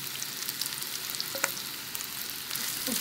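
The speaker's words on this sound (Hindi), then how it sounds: "भुरते को डाल के फ्राई करूंगी" Mashed bhurta frying in a pan, a soft continuous sizzle with a few light stirring clicks, no voices.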